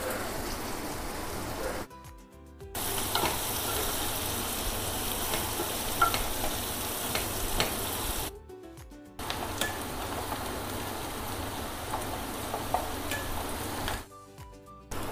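Onions and green chillies frying in a pan, a continuous sizzle with stirring scrapes that drops out briefly twice, steady and close with no speech.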